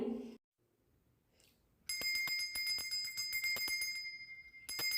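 A magic bell rings in a rapid run of bright, repeated metallic strikes, loud and close after a brief quiet opening, breaking off and resuming at the end.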